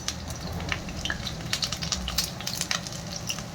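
Chopped garlic added to cumin seeds already browning in hot oil gives a steady close sizzle and crackle, with light stirring scrapes over the top for a few seconds.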